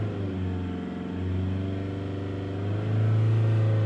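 A Volkswagen Caddy engine with a P1592 boost pressure fault revs to about 3000 rpm, a steady, close mid-pitched drone that climbs and swells louder near the end, with no talking.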